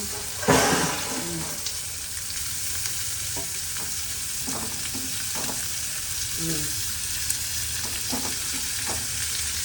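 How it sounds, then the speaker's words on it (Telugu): Onions frying in a pan, a steady close sizzle with the scrape and clatter of stirring at intervals throughout, and no one speaking. "ఫస్ట్ ఉల్లిపాయలు వేపేద్దాం"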